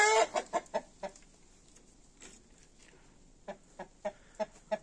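Silver Wyandotte hens and roosters cluck in short, sharp bursts, a quick run of clucks at first, then a quiet pause, then another spaced series of clucks, fairly close and soft overall.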